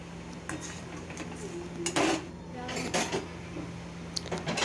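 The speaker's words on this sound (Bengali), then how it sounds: "আমরাগুলো সিদ্ধ হয়ে গেছে, এখন জল থেকে ছেঁকে তুলে নেব" Metal utensils clink and scrape against a cooking pot as boiled hog plums (amra) are strained out of water. A few sharp clatters stand out over quiet kitchen background.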